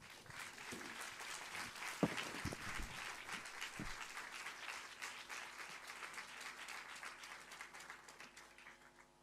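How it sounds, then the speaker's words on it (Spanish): Applause from an audience welcoming a guest at a literary meeting in Porto, a continuous round of many clapping hands, fairly distant and soft, with a few louder knocks early on. "Uma salva de palmas para Rosa Alice Branco."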